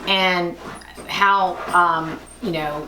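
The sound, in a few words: dog whimpering in the background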